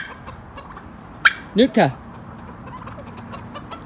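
A chicken in a farm pen gives a sharp squawk and then two loud, close clucks over steady outdoor background noise, with a short spoken word near the start.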